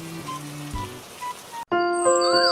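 Rain falls in a Hindi children's cartoon, a steady soft patter of drops that drops out briefly and then returns alongside a tonal musical score.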